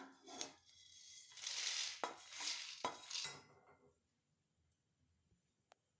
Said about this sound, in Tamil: கால் டம்ளர் துவரம் பருப்பு எடுத்து வறுத்துக்கலாமுங்க